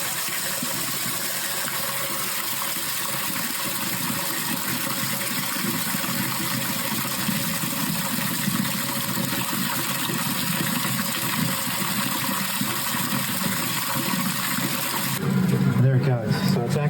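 A dirty water pump for small, shallow pits runs with a steady mechanical hum as water is poured in, a constant gushing wash over the motor drone, with a brief change in tone near the end.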